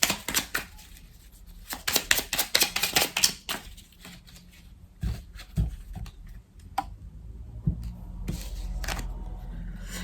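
Oracle cards drawn from a deck during a love-themed card reading: a burst of quick papery flicks and taps in the first few seconds, then scattered softer handling sounds, with no talk.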